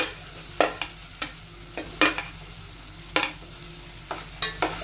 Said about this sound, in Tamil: இதோட நம்ம முருங்கைக்காய் கத்திரிக்காயையும் சேர்த்து வதக்கிக்கலாம்